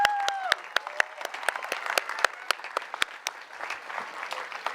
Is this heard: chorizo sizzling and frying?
no